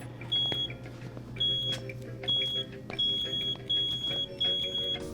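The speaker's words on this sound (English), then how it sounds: "That's an automatic tank gauge alarm." An automatic tank gauge alarm, the console used for fuel-tank readings at a gas station, sounds repeated short high-pitched beeps in pairs and triples at a steady cadence, moderately loud over a low background hum.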